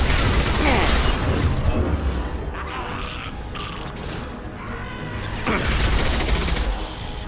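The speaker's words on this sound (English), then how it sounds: "Firing an impact shot!" Impact shot weapon firing in the sci-fi shooter Mass Effect 2 on Omega: a loud, dense barrage of mechanical bursts and creaking metallic blasts, easing briefly midway before surging again, with faint voices underneath.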